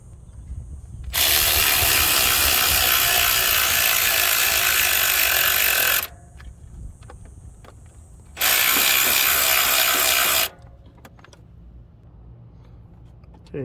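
A ratchet clicks steadily while loosening a bolt on the alternator of a 2013–2018 Toyota Rav4, in two long bursts of close, loud, rapid ratcheting separated by a quieter pause.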